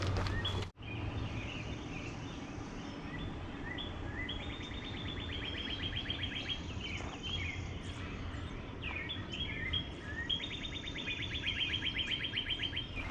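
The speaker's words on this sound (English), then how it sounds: "Very different birds here." Many birds chirp and sing at once in a loud, busy dawn chorus at 5 a.m., with repeated trilling calls overlapping throughout and no talking.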